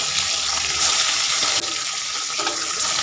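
Small bata fish drop into hot oil in a pan and fry with a loud, steady hiss and crackle that runs unbroken throughout.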